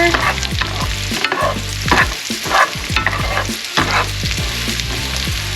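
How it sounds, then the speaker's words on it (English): Mushrooms dropped into a pan of translucent sautéed onions sizzle loudly and steadily, with repeated spatula stirring scrapes throughout and no talking. "I'm gonna go ahead and add the mushrooms"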